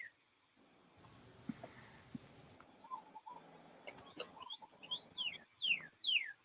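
Several robins sing in bursts of bright, whistled downward-sliding phrases toward the end, moderately close, over a low background hum and some cooing-like lower calls earlier.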